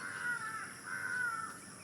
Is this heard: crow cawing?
yes